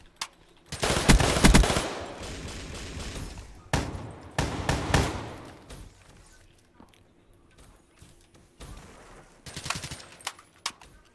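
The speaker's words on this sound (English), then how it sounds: "Is this dude aware he's shooting at me with his silencer?" Gunfire from a silenced gun in Call of Duty Black Ops 3, heard as several bursts of rapid suppressed shots in a search-and-destroy match. The bursts come in uneven clusters among other game sounds and footsteps.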